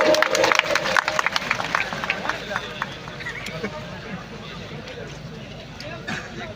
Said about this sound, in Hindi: तालियों में कोई कमी नहीं आनी चाहिए साथियों